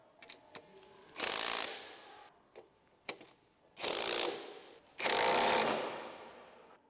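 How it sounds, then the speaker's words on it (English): Impact wrench with a 17mm deep socket driving down engine motor mount bolts on a 2006-2011 Honda Civic, three loud sustained bursts of whirring and hammering separated by short gaps and small clicks. "tighten with a 17mm deep socket on the impact"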